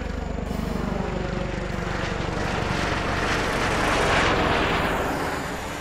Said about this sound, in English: I think the Enbridge helicopter that just flew over